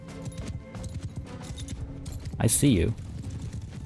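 Hooves of horse archers galloping in the game Mount & Blade II: Bannerlord, a rapid clip-clop patter running throughout beneath someone speaking, with a brief louder burst near the middle.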